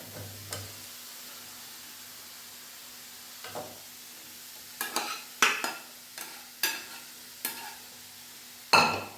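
Ivy gourd pieces stirred into oil tempered with mustard seeds and urad dal, a faint sizzle under a series of sharp spatula scrapes and knocks against the pan that grow more frequent toward the end.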